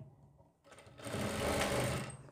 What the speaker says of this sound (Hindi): यहाँ लगानी है सिलाई